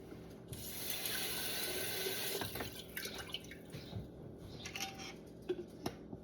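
Cold water runs steadily from a kitchen tap with splashing and dripping, fairly close, settling into softer trickles and drops toward the end.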